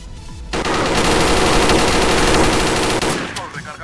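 Loud, rapid automatic gunfire rattles in an online five-versus-five shooting match, a continuous burst lasting several seconds, with a voice briefly heard near the end.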